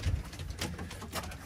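Pigeons coo softly in a flock of about twenty-two birds, low murmuring calls repeating irregularly under faint background noise, with no talking.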